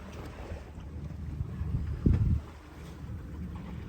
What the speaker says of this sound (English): at least we got plenty of wind, so we're sailing and not motoring today